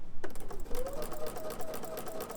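A sewing machine fitted with a #86 ruffler foot gathers fabric one gather at a time, giving a steady, fast mechanical whirr with rhythmic clicking that runs close and continuous throughout.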